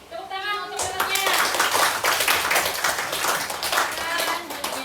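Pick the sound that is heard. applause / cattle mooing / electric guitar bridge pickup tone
applause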